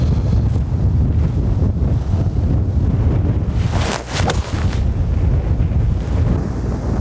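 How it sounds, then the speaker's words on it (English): Strong gusting wind buffets the microphone outdoors at a golf range, a loud continuous low rumble that briefly dips and swells midway, with no talking. "The wind's actually picking up, you can probably hear it on the mic."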